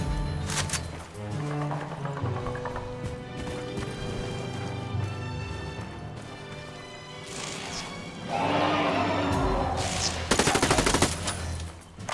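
Automatic gunfire in the video game Ghost Recon Wildlands, dense sustained shooting layered over a loud busy game mix with music and effects, intensifying near the end.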